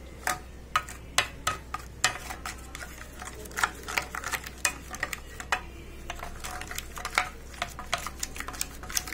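A spoon scrapes and clinks against a bowl while salt, chili and cumin powder are mixed into boiled elephant foot yam pieces, giving an uneven run of close, sharp taps and soft stirring sounds.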